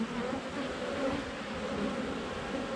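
Bees buzzing steadily around a hive, a continuous close drone of many insects with no pauses and no voices.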